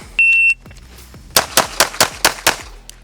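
Pistol shots during shooting transition drills: a shot timer beep, then six sharp, loud gunshots in a quick uneven string, each ringing briefly, close by and with no talk.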